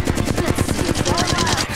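Rapid automatic gunfire in the video game Apex Legends, a loud close burst of evenly spaced shots firing continuously, mixed with game sound effects.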